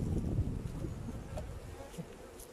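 Honeybees buzz around a beehive opened in spring, a low, faint, steady drone with soft wind noise and no clear single bee passing close.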